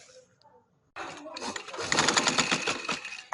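An electric sewing machine stitches a sleeve onto a garment, starting up after a short quiet moment and then running in a dense, rapid mechanical whir up close, with someone speaking over it.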